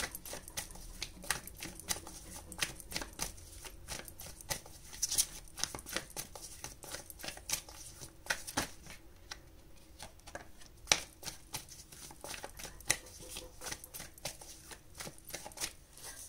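Tarot cards are shuffled and drawn, giving soft, quiet riffling flutters and light papery taps that come in irregular bursts for several seconds, with no one talking.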